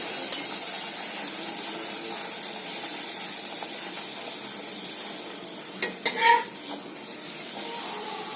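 Luchi fry in oil in a wok, giving a steady, even sizzle throughout with a short clatter of stirring near the end.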